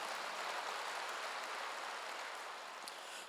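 A church congregation at a Wednesday worship service applauds, a faint, even wash of clapping hands heard from a distance and slowly tapering off.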